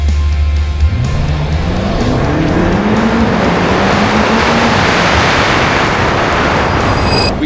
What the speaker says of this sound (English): So much fun drag racing.